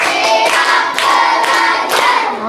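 Children in a classroom clap along in a counting clap game, a few loud bursts of dense group clapping pulsing at a steady rhythm, close and busy with no talk.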